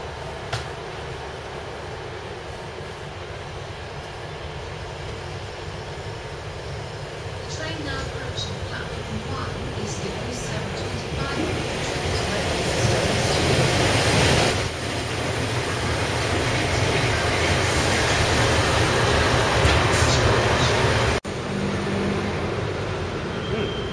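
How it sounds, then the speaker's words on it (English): A train rumbles into a station, a low rolling roar with rising metallic clatter and hiss that swells midway, heard from the platform amid background noise. "Origin train arriving."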